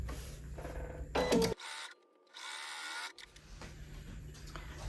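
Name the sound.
sewing machine sewing quilt block seam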